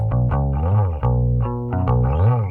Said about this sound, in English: you can get a kind of distorted bass sound without the distortion